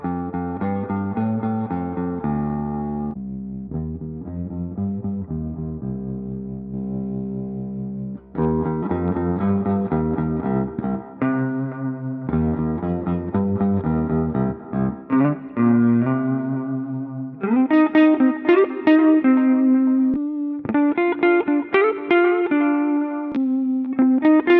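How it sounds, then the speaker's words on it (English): Single guitar notes are played through the pitch shifter effect of a tiny Mooer Minimax M1 modeller, heard alone as sustained, doubled, slightly distorted tones. Later phrases jump higher and sound brighter. "Definitely not an amazing pitch shifter, but let's see how it fares against single notes instead."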